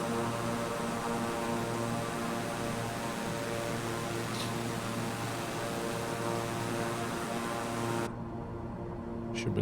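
A propeller aircraft engine drones steadily in flight in Microsoft Flight Simulator, a constant humming tone with a broad hiss that cuts off sharply near the end.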